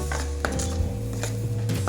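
A spoon scraping and knocking in a cooking pan while tomato, cashew and mint paste is stirred, with several light clinks over a low steady hum.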